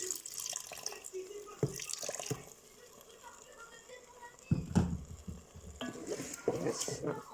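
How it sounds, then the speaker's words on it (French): Water poured into a pot of Turkish lentil soup on a slow cooker, with stirring and a faint sizzle. Splashing and scraping come in short bursts up close, and speech is heard in between. "je vais rajouter un peu d'eau"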